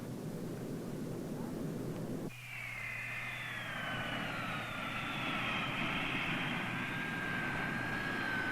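Aircraft engine drone with a rising high whine sets in after about two seconds and continues steadily to the end, loud and close, over a low rumble, as a propeller plane flies.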